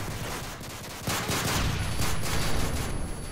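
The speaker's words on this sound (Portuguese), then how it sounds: "Tô atirando aqui no nada, ver se acerta alguém na sorte." Sustained bursts of gunfire in Call of Duty: Modern Warfare 3, with rapid shots growing denser and louder partway through, continuous with no talking.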